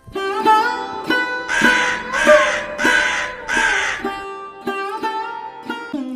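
A cartoon crow caws in a series of harsh, nasal calls. Four loud, closely spaced caws come in the middle, with shorter calls before and after, all close and clear.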